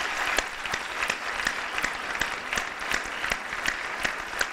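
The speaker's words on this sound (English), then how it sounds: "May I ask you to give them one more round of applause?" An audience at the close of a public health talk applauds the speakers, a dense, steady round of clapping with sharper individual claps ringing out at a regular pulse, sustained at even loudness throughout.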